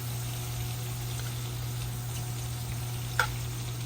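Hamburger steaks and onions frying in a pan give a steady, even sizzle throughout, with a single brief clink near the end and no talking.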